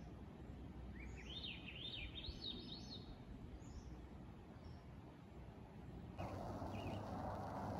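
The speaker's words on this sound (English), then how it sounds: "Hear the birds." Several birds chirp and trill in bursts over a steady low rumble of distant traffic, with no one talking.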